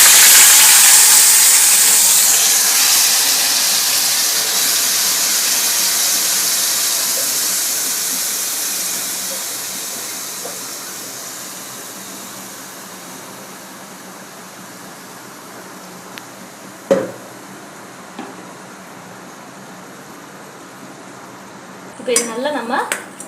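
Ginger, garlic, onion and tomato paste hits hot oil in a pan with a loud, bright hiss and sizzle that gradually fades, later broken by a few clinks of a utensil against the pan.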